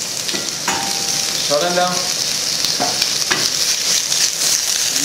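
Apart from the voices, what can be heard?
sliced carrots sizzling in a hot pot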